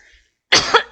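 A single short, sharp cough, close and loud, after a brief moment of near silence.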